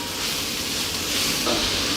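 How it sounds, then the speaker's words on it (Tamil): Onions sautéing in a pan with cumin seeds, a continuous close sizzle and hiss with light stirring throughout. "அடுத்தது வெங்காயம் போடுறோம். வெங்காயம் லேசாக பிங்க் நிறம் ஆகிற வரைக்கும் நம்ம வதக்கலாம்."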